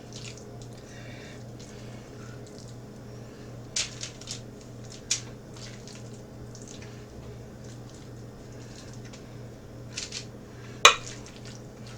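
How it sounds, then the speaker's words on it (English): Fish cake mixture scooped with a measuring cup onto a baking sheet: a few soft scraping and clinking taps spread over a quiet kitchen background, with one sharper knock near the end. "I'm just going to scoop them all out and measure them all"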